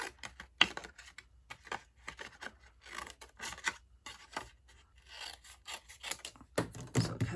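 Stamped paper card pieces being cut apart, giving a series of quiet, close rasping cuts and rustles in an irregular rhythm, with a slightly sharper paper sound near the end and no talking.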